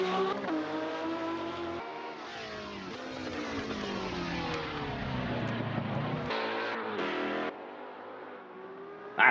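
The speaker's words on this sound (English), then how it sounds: "Ridiculously loud old cars." Old racing cars at a Le Mans exhibition race, engines roaring loudly and continuously as they rev, shift and pass by, with the pitch climbing and falling through gear changes.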